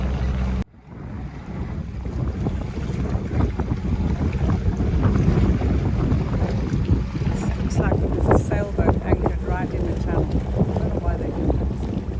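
Nordhavn motor yacht Wanderlost heading out of the channel at Chub Cay in the Bahamas, heard as a continuous low engine and hull rumble mixed with strong wind buffeting the microphone and water wash, with faint voices partly audible.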